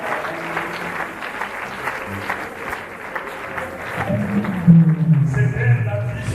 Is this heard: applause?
yes